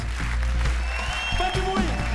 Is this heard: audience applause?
yes